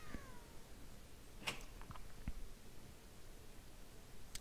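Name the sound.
cat meowing in a video game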